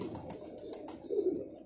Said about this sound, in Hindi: ले जी, ये एक और कबूतर आ गया जी।